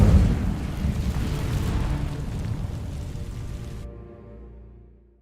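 A fire spell in a video game ignites dry vines with a loud rumbling, crackling whoosh that starts strong, rolls on for several seconds, then fades and cuts off, with no talk over it.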